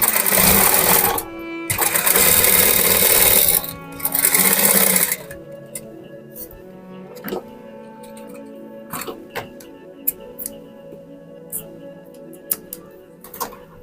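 A sewing machine stitches a fabric scrunchie in two loud, fast whirring bursts, then falls quiet, leaving scattered clicks and handling taps close by.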